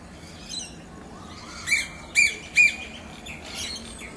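Harsh bird squawks come in several short bursts, three bunched together in quick succession, over a faint outdoor background.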